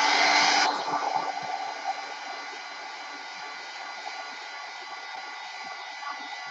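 A hair dryer blowing steadily over a wet ink wash painting, a close continuous whirring hiss that is louder at first and then settles to an even drone, with no talking.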